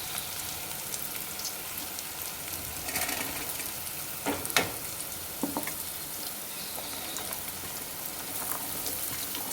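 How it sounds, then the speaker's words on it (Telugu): Onions, green chilies and ginger-garlic paste sizzle steadily in a pan for a Telangana-style bottle gourd curry, a continuous crackling fry with a few sharper pops and stirring scrapes midway. "మనకు చూడండి అల్లం వెల్లుల్లి పేస్టు, ఆనియన్స్, పచ్చిమిర్చి ఎంత బాగా వేగిపోయాయో"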